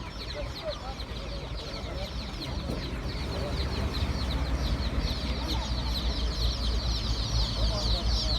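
Chickens cluck and chatter continuously among background murmurs at a chicken market, the clucking growing a bit louder over a busy, bustling ambience.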